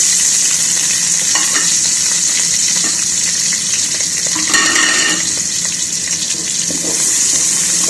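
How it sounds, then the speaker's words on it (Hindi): Chopped onions frying in hot oil in a pan over a gas flame, a loud, steady sizzle with occasional stirring clatter throughout. "अब ये जो प्याज है हम इसको ब्राउन करेंगे। यहाँ पे फ्लेम पे मैंने ऑयल रख दिया है।"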